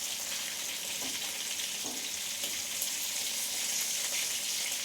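Prawns fry in butter in a pan with a steady, even sizzle and hiss, faint soft taps of handling mixed in throughout.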